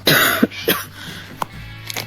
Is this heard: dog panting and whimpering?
no